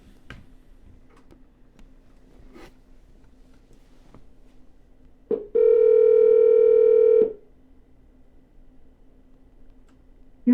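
A phone call being placed: faint ticks and clicks, then a loud steady dial or ringback tone lasting about two seconds before returning to a quiet line.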